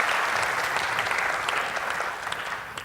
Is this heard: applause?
yes